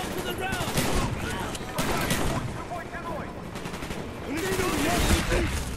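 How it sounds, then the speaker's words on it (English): Sustained rapid gunfire in the video game Call of Duty Black Ops shooting at a lock, loud and continuous in dense bursts, with shouted voices mixed in among the shots. "Shoot the lock, Mason!"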